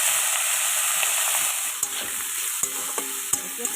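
Seeds fry in hot oil in a pan with a steady bright sizzle, while a utensil scrapes and taps against the pan several times in irregular strokes; no talking.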